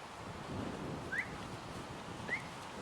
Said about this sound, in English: I just put a whistle in when I want him to come to me